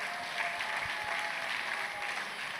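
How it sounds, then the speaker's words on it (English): Audience applause at a tech fair panel session, a dense, continuous clapping from a sizable crowd in a hall, steady and loud throughout with no distinct voices. "A round of applause for him."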